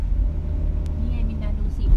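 A car engine pulls in second gear up the steep mountain road to Doi Ang Khang in Fang district, holding a steady, close, low drone for the whole stretch.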